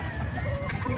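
A laying hen, a gamefowl brood hen known as number 9, clucks in a short run of soft, close calls amid other yard noise.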